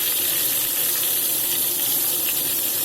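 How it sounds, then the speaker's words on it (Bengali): Eggplant slices fry in hot mustard oil in a kadai, giving a loud, even, close sizzling hiss that runs unbroken without talk. "তেলটা গরম হলে বেগুনগুলো আমি কড়ার মধ্যে দিয়ে 2 পিঠ খুব ভালো করে ভেজে"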